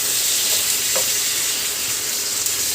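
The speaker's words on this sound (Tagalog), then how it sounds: "Okay, gigisa natin siya." Garlic and onions sauté in olive oil, a steady bright hissing sizzle close up with a faint stir or two and no voices.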